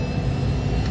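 A private jet's engine drones as a steady, loud, close whine-and-rumble cabin roar, even and unbroken throughout, with no talking over it.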